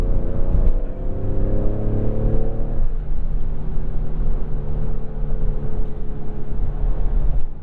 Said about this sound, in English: sport mode really holds the gears pretty long